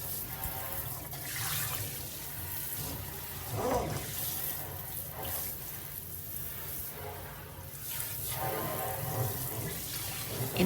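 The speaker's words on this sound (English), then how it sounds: "Having the new faucet has changed how I clean." A kitchen sink faucet sprayer runs water steadily into the sink, a continuous hissing spray with splashing that swells and shifts as the stream moves around the basin, fairly close, no talking.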